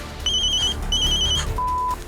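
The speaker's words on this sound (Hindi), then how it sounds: "मिशा का फोन है, क्या करूं?" A phone rings with an incoming call from Misha, two bright electronic ringtone bursts followed by a short steady tone, loud and close with no talking over it.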